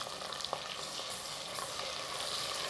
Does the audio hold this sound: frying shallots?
yes